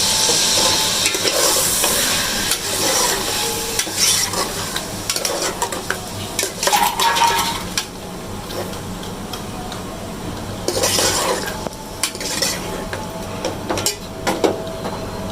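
Chopped tomatoes fry in a pan for chicken with chana dal and mutton, with a constant loud sizzle broken by repeated scraping stir strokes and ticking spoon contacts.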